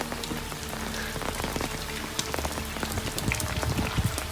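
Steady rain patters on a surface, a dense hiss with scattered drops tapping close by, no voices.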